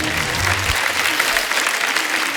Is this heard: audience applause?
yes